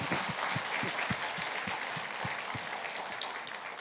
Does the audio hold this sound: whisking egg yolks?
no